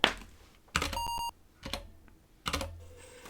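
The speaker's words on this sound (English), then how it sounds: "Can make the computer beep." An Apple II computer gives a single steady electronic beep in the adventure game Wizard and the Princess, set between clusters of clacking keyboard typing.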